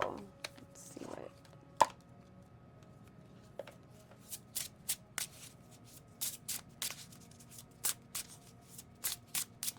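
Oracle cards from a Desert Rites deck being shuffled in a quiet room, a soft riffle early on, then a steady run of short crisp card snaps and flicks repeating close by, with no talking.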